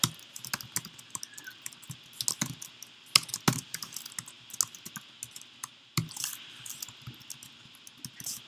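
Irregular bursts of keystrokes on a computer keyboard, quiet and close, tapping out short runs and pauses with an occasional sharper clack.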